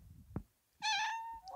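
A cat meows once, a long clear close call with a falling tail, followed by a shorter rising meow, with soft room noise and a faint click between.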